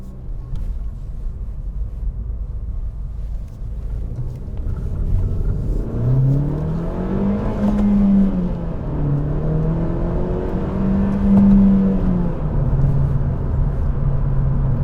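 A 2017 Honda Civic Si with about 100,000 miles accelerates hard; a steady rumble gives way to a rising, wavering engine note that climbs and dips through the revs, heard from inside, close and with no talking.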